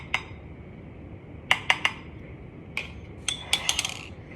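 Metal spoon clinking against a cup while stirring a cocoa powder drink, a few sharp isolated taps followed by a quick cluster of chimes, fairly quiet and close.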